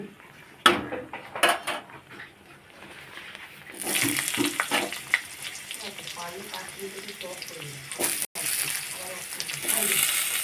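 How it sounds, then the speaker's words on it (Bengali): Vegetables being dropped into hot tempering in a pan for sago khichuri, bringing clattering utensil knocks followed by a loud, sustained sizzle and frying hiss, with brief speech over the cooking. "ফোড়ন দেওয়া হয়েছে ফোড়নের সবজি দেওয়া হচ্ছে"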